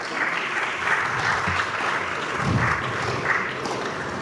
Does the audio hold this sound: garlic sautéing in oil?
no